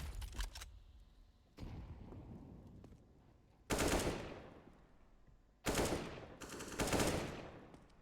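Desert Eagle pistol gunfire in a Counter-Strike match, with several loud, close shots and bursts separated by quieter gaps, each with a sharp crack and a decaying echo.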